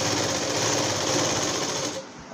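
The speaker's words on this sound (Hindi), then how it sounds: "इस तरह से फोल्ड कर लें और इसके ऊपर सिलाई लगा दें।" Close, steady whirring of a sewing machine stitching along a folded petticoat seam, running continuously for about two seconds before stopping abruptly.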